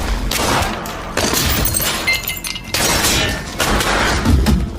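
Film gunfight as a man fights off a mafia boss and his henchmen: loud, dense bursts of impacts, booms and crashes in rapid succession with breaking sounds, continuous and close.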